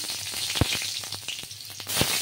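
Chopped onion fries in hot mustard oil in a kadai with a steady, fairly close sizzle, dotted with sharper pops and spatters and no voices.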